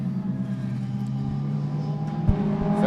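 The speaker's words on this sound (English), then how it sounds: "Great sound effects as Shane Mulligan goes blasting by" A rallycross car at Mondello Park, a Peugeot 206 with a K24 engine, roars past close by with a steady engine drone and a brief swell as it blasts by, no talk over it.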